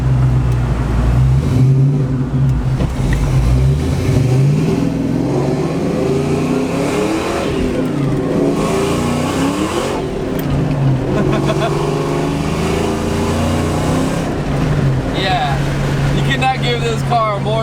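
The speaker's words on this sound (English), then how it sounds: "Oh yeah, that blower has a nice little sound to it." A 700 hp supercharged 2-valve Ford Mustang with a manual clutch revs and pulls through gears, rising and falling engine roar with a blower whine on top, heard from inside the car under intermittent talk.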